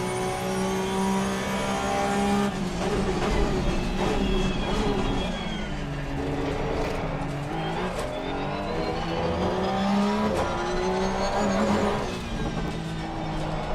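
Race car engine roaring continuously in Assetto Corsa Competizione, a loud sustained drone with rising and falling revs through gear changes, heard alone with no talk.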